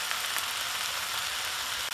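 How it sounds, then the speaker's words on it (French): Food sizzling in a sauté pan over full high heat, a steady dense crackling hiss that is loud and continuous from start to finish. "Vous remettez dans le sautoir avec le feu à fond."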